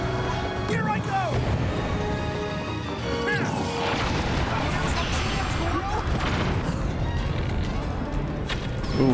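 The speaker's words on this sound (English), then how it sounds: "Ooh, that explosion radius almost got me." Explosion in the video game Zelda: Tears of the Kingdom, a dense crashing boom with debris-like clatter that fills the whole stretch, mixed with busy game effects.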